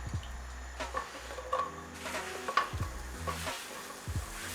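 Sliced mushrooms frying in olive oil in a pan, a low sizzle with intermittent scraping and stirring as they are spread around, close and fairly quiet.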